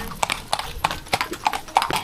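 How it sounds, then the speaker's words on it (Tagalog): Horses' hooves clip-clop on pavement at a street festival in Plaridel, Bulacan, a regular run of sharp, close hoof strikes with faint crowd sounds behind. "Eto pa ang ating mga kabayo"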